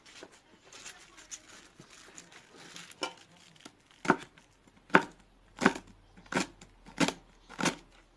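Knife finely chopping collard greens (kara lahana) on a board, starting with light scattered cuts and building to a series of loud, evenly spaced chops close by.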